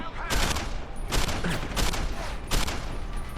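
Gunfire in the shooter game Deus Ex: Human Revolution Director's Cut on Wii U: four loud, sharp bursts of shots land in an uneven rhythm over a steady game backdrop.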